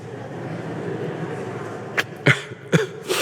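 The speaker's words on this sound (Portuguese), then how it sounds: "A criança está até tossindo também" A child coughs several times in short sharp bursts near the end, after a stretch of quiet room background.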